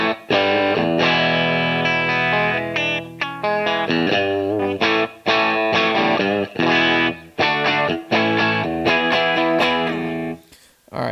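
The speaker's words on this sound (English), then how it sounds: "So now we're going to get phase inverter distortion only" An electric guitar plays through a tube power amp pushed into phase inverter distortion, giving dense, gritty chords and riffs that ring loudly in bursts with short gaps between phrases.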